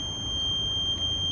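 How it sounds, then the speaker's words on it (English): Emergency egress alarm on a maglock door, sounding as a steady, shrill electronic tone that holds unbroken and loud and close. "you hit this button, hold it for 2 seconds, sounds the alarm"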